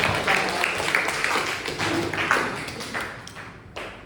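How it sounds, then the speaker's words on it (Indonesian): A classroom of students applauding a group, a burst of many hands clapping close by that tapers off over a few seconds. "Tepuk tangan untuk kelompoknya."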